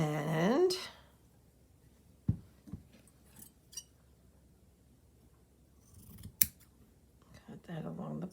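Scissors cutting fabric or paper for a 6x6 inch fabric journal in browns, beige and deep yellows with lace and trim, heard as a few quiet, scattered snips between stretches of near silence, with brief speech at the start and end.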